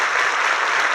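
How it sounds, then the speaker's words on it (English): Brief, dense audience applause at a talk by an actor about his memoir, steady and close, with no voices over it. "let's give a round of applause to Kalpen"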